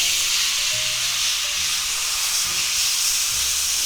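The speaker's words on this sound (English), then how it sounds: "I just love the sound of sizzling steak." Chuck steak sizzles steadily in a cast iron skillet, a continuous bright hiss of frying fat with faint low clatter underneath, close and even throughout with no talking.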